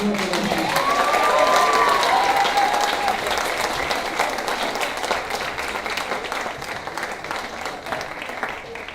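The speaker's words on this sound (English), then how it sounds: "And one round of applause going on as well." Sustained audience applause fills a school award ceremony hall, steady dense clapping across the whole stretch with a brief whistle-like tone early on and faint voices mixed in.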